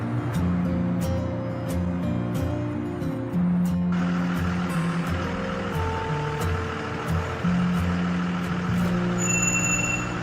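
A cartoon tow truck rolls in on a kids' garage road scene, its heavy engine droning steadily with a hiss of air brakes and a few short beeps over light background music.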